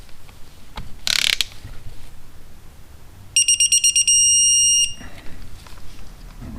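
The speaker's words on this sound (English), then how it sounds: "Let's see if I can torque a small one to 8 foot-pounds." A torque wrench ratcheting a small bolt to 8 foot-pounds during assembly of a 1984 Honda Shadow 500 shifter and oil pump drive, with a few loud close clicks followed by a sharp electronic beep pattern as the set torque is reached.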